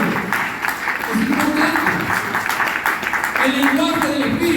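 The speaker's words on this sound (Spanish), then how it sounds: "Un fuerte aplauso." Audience applause rises during a church service, a dense wash of clapping mixed with voices, filling the space at moderate loudness from start to finish.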